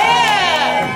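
A live show crowd at a New Year's Eve pub gig cheers and whoops loudly in a short, dense burst of mixed voices, close and sustained through the moment.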